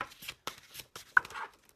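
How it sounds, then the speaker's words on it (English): Tarot cards being shuffled by hand, a quick series of soft papery riffles and slaps, close and fairly loud in a quiet room, with no talking. "That shuffling feels super loud"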